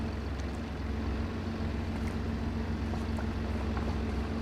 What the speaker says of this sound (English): I want to let the tractor warm up for a minute